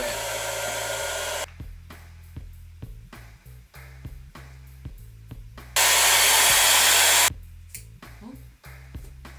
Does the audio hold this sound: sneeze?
no